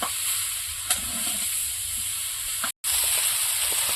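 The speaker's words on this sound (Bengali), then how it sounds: "কলাটা কিছুক্ষণ কষিয়ে নিয়েছি, এবার কাঁচা লঙ্কা ছেড়ে দিয়ে দেবো। আর একটু কষিয়ে নেব।" Banana being sautéed with green chillies in a hot oiled pan, giving a steady close sizzle and hiss with a few stirring scrapes and one brief dropout.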